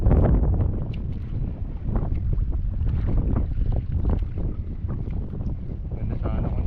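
Strong gusty wind buffeting the microphone on a small fishing boat during ultralight casting, a rumbling low roar that surges and eases continuously with faint murmured talk underneath.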